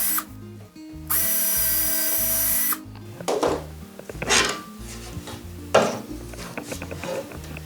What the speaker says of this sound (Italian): con una punta da 2 mm fina fina andremo a forare dove abbiamo segnato qua